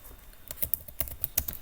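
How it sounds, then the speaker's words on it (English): Keys tapped on a computer keyboard while entering a setup command, a short burst of about a dozen quick, close clicks in an irregular rhythm. "let's just type the command"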